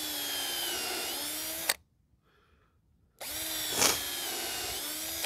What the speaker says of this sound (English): I don't have to pre-drill down here, but I'm going to because I like to pre-drill